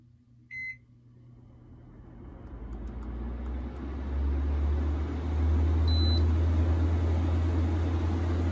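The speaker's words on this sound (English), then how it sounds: "I'll go ahead and turn on the air conditioner." A 5000 BTU air conditioner in a truck camper gives a short electronic beep, then its fan whooshes up into a rising steady hum; a second beep sounds as the low drone settles in loud and constant.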